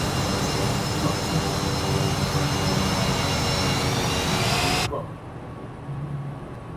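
A Cessna Citation CJ4 jet engine in a flight simulator drones with a loud, steady whine and roar, then drops abruptly to a much quieter low hum.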